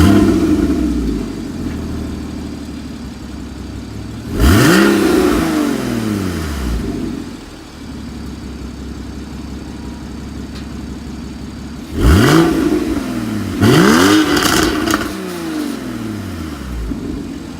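A Porsche Cayman with a center-mounted exhaust revs sharply in two bursts, each a quick rising and falling roar climbing over a steady close idle, with a double blip in the second burst.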